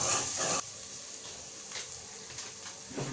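Ginger paste sizzles in a hot pan, a bright frying hiss that is loud at first and then drops to a softer steady crackle with faint stirring.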